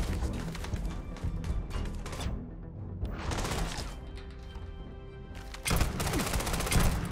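Gunfire in the video game Starfield, with dense rapid volleys of shots crackling in clusters, a short lull, then a heavier burst near the end, all fairly quiet overall.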